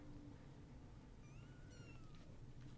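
Cats meow several times in a film scene, faint and high-pitched, drifting over a steady low background hum.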